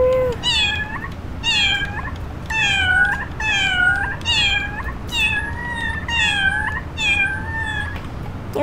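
A cat character in a video game meows over and over, letting out about eight loud, clear, evenly spaced cries over a low background hum.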